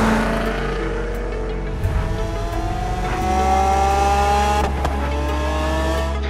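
Cars from the Forza Horizon 3 racing game drive through the Australian outback toward Byron Bay, giving a steady loud engine drone with rising gear whines and revs, continuous throughout with no talk.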